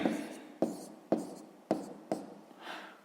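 Pen writing out a math answer, five or six distinct scratchy strokes at a steady pace, close and quiet.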